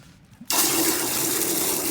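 Water gushes steadily into a soap bucket for car washing after a brief quiet start, a loud continuous pouring rush that fills the rest of the moment.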